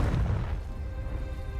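A Confringo spell blast in Hogwarts Legacy, a single deep booming burst that quickly decays into a fading rumble.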